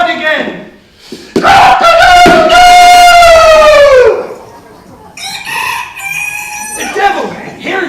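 Rooster crowing loud and very close: one long, drawn-out cock-a-doodle-doo followed by shorter crows and clucks, with a voice speaking during part of it.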